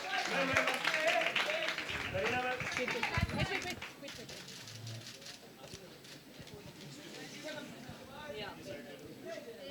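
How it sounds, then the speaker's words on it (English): Audience applause at a book launch, a loud burst of clapping near the start that thins to scattered claps, with voices and crowd murmur throughout. "A louder applause, please"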